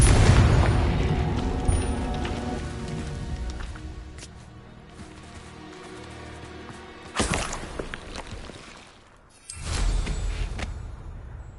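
A Confringo fire spell cast in Hogwarts Legacy sets off loud booming blasts, a heavy opening burst followed by two sharp explosions later on, with rumbling and quieter game ambience between them.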